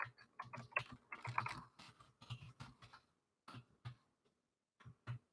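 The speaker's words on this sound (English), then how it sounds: "I'm typing a message to you right now, Brandon." Quiet bursts of keystrokes on a computer keyboard as a message is typed, irregular clusters of soft clicks with short pauses between them, close and faint with no voices.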